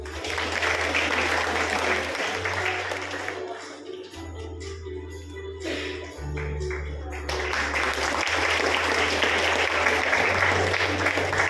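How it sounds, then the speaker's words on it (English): Audience applause after a performance at a Grandparents' Day celebration in a church hall, sustained clapping from a crowd that dips briefly midway and then swells again, with a low hum underneath. "Please give a huge round of applause to them."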